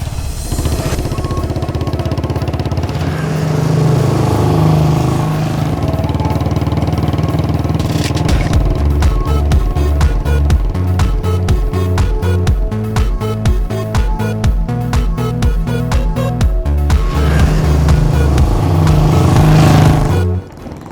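A motorbike engine hums and revs loudly while riding, with a rhythmic low throb that steadies and then winds down as the bike pulls to a stop.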